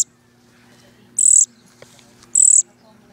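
A baby bird gives two sharp, high chirps about a second apart, close by, against an otherwise quiet indoor background.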